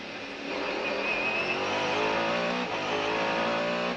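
Race car at the 24 Hours of Le Mans 1999 braking into Mulsanne corner, a loud steady engine roar holding through the clip with shifting harmonic tones as it slows, no voices over it.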